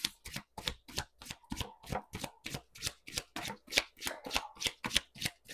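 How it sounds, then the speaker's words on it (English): Tarot cards shuffled for a card reading, a brisk series of about twenty crisp riffling slaps in a steady rhythm, close and clear with no talk. "Let me shuffle."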